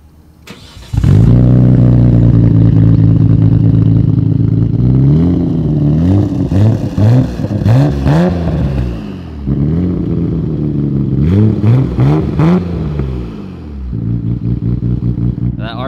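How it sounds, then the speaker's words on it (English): A Nissan GT-R's RB26 engine, fitted with a 3-inch straight-pipe exhaust running back from the turbos, cranks and catches, then idles loud and close before several sharp rising and falling revs, with a second burst of revving near the end. "So, like a little exhaust note."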